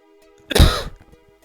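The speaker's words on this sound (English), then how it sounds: "Oh, I'm going to cough again." A single throaty cough or throat clear from one person, short and close, standing alone against near silence.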